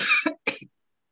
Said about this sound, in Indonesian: Batuk-batuk malah.